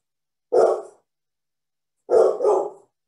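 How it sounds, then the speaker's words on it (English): A pet dog barks nearby during an online community meeting, one sharp bark followed after a pause by a quick double bark, loud against an otherwise silent background. "now my dog is barking too"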